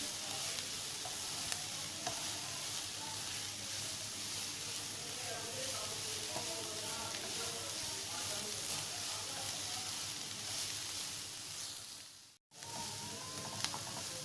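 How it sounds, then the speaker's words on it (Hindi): Shredded cabbage frying in a pan while being stirred, a continuous soft sizzle with scraping motions throughout and a short break near the end, fairly quiet. "बंद गोभी को भी अच्छी तरह से फ्राई कर लें"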